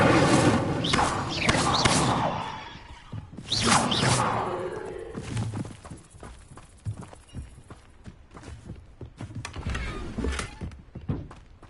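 Incendio fire spell cast in the video game Hogwarts Legacy: a couple of loud whooshing bursts early on, then quieter scattered thumps and footstep-like game sounds.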